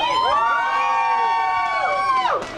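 A crowd cheers the winners on stage at a 24-hour bike race around Munich's Olympiapark. Many voices join in a loud, sustained whooping cheer for about two seconds, then it drops away.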